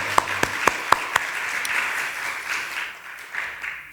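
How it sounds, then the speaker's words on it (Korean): A few sharp individual claps ring out, then a church congregation at an afternoon worship service breaks into steady applause that continues and gradually thins. "우리 하나님께 영광의 박수, 또 찬양팀에게 수고의 박수를 올리겠습니다."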